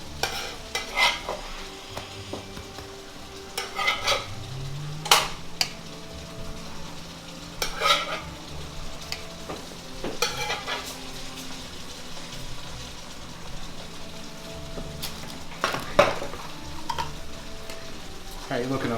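Bananas Foster cooks in a pan with scraping stirs and a light sizzle, while people talk intermittently nearby in a kitchen.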